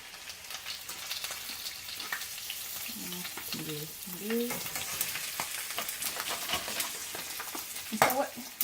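Chicken pieces seasoned with salt and pepper searing in a hot pan, a steady close sizzle and crackle running throughout, with a few sharper pops near the end.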